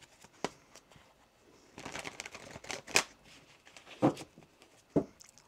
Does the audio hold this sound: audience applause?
no